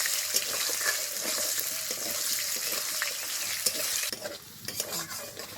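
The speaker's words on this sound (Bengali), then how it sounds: "আলুটাকে আগে একটু হালকা করে ভেজে নেব।" Cut potatoes fry in a pan for chhyachra, with a continuous loud sizzle and repeated scraping stir strokes, the hiss easing near the end.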